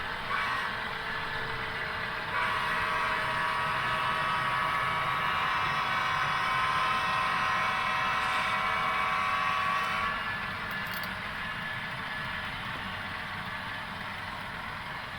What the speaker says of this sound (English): that's headed up by a Kansas City Southern GEVO by Scale Trains, and then a Canadian Pacific GEVO by Athearn.